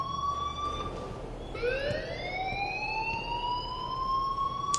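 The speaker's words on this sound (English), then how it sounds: "please turn off that alarm since that's your job" Alarm sounding in the video game Life Is Strange: a loud rising electronic siren wail that cuts off briefly, then sweeps up again and holds, heard alone.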